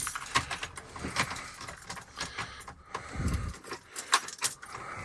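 Keys jangling near a pickup truck after a fuel filter change, with repeated metallic jingles and clinks in irregular bursts and a dull thump partway through.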